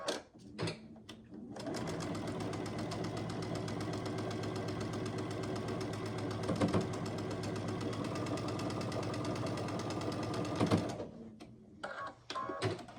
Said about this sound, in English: line them up, and sew down this side